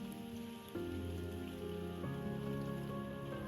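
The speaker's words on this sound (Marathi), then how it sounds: "पाणी उकळलं ना" Water boils in a pot on a wood-fired farm stove for Maggi noodles, a soft steady bubbling hiss with a faint low hum beneath it.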